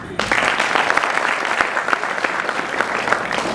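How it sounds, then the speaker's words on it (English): Graduation ceremony audience of friends and parents breaks into loud sustained applause, a steady dense clapping from many hands starting abruptly and continuing throughout. "I request all my friends and all the parents to please clap for me."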